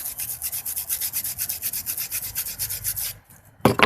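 A belt being sanded by hand before painting, heard as steady rhythmic back-and-forth rubbing strokes, close and fairly loud, followed by a brief pause and a sharp knock at the end.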